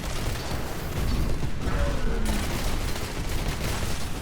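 Machine pistol gunfire in Titanfall, a dense, continuous rattle of rapid shots with mechanical clatter, loud and unbroken from start to finish.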